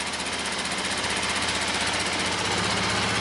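Old $600 Magnum engine running after sitting unused for a long time: a loud, close, steady rattling drone with a rapid knocking pulse throughout.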